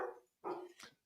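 A dog barks twice nearby in quick succession, loud sharp yaps followed by a fainter yelp, with no talk over it.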